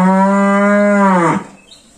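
A cow kept on a hobby cattle farm lets out one long, loud, close moo lasting over a second, then it cuts off into quiet.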